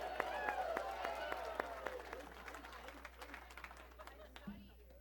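A comedy club crowd in a grand showroom breaks into applause and cheering that starts strong and thins out toward the end, with scattered claps and crowd noise.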